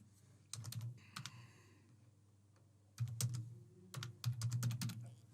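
Someone types on a computer keyboard in quick bursts of light, close key clicks, with short pauses between runs of keystrokes in a quiet room.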